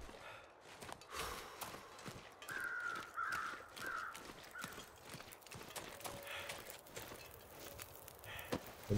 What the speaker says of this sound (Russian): Есть птицы.